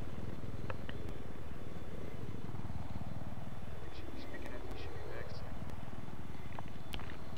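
An attack helicopter's steady rotor drone fills Battlefield 4 multiplayer, a loud, continuous low throb with a sweeping pitch dip midway as it passes, while people talk over it.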